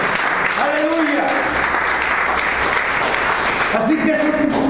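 A church congregation breaks into loud, sustained applause as an offering of praise, dense clapping filling the whole stretch while a voice calls out over it at the start and again near the end.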